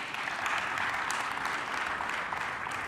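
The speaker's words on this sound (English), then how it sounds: "Kindly let's applaud them." An audience at a film and TV market event in Kenya applauds steadily, a dense sustained clatter of many hands from a moderately sized crowd.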